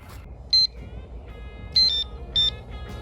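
Short electronic beeps from a fishing bite alarm in three separate bursts, the later ones doubled, sounding over a quiet outdoor lakeside background.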